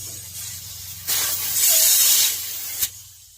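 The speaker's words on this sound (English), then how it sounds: "Got a little carb cleaner through there, and same thing here." Carb cleaner blasts through a carburetor in a short, close hiss lasting about a second and a half, ending with a small sharp burst, in a quiet shop.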